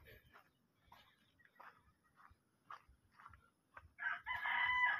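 A rooster crows loudly near the end, following scattered speech and background noises.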